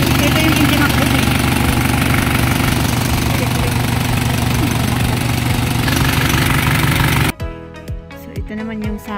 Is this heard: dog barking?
no